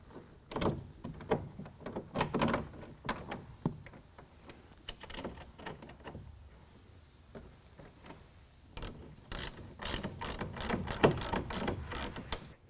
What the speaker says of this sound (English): we can finish tightening down that clamp using a 9/16 socket